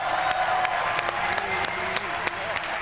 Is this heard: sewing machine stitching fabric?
no